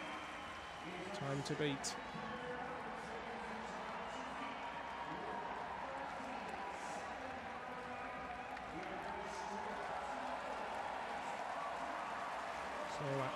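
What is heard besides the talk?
wild applause from packed velodrome crowd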